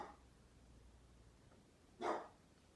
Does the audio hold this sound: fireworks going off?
no